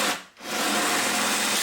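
A drill bites into an acrylic plate, giving a continuous rough, grinding whir that briefly dips near the start and then runs steadily loud, with no voices.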